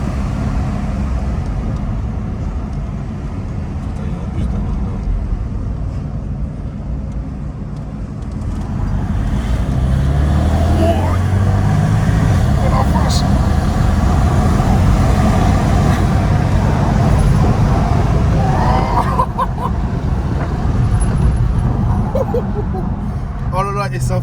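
Porsche Panamera Turbo S under hard acceleration, a loud sustained engine roar with road noise that swells and holds steady, heard from inside the car with people talking and exclaiming over it.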